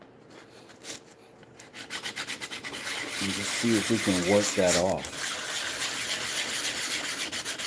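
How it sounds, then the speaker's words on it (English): Rhythmic rasping of a sanding block rubbed back and forth over wood, close up, with someone talking briefly at the start. "Let's put the old sanding block out"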